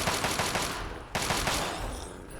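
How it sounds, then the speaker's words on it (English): Turrets in Fallout 3 fire at ghouls in rapid automatic bursts, a dense rattle of shots that pauses briefly before resuming. "Sounds like there's turrets and they're going to town on ghouls."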